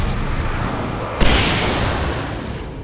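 A flare pistol fired at enemies in the video game Alan Wake Remastered: a sudden loud bright burst that swells into a broad hissing rush and slowly fades, with steady ambient noise beforehand.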